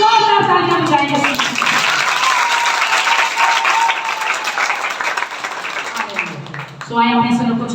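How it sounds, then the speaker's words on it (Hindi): At a Friday healing prayer meeting, a crowd breaks into loud, sustained applause, with a voice speaking at the start and again as the clapping fades. "जोरदार तालियां बजाइए।"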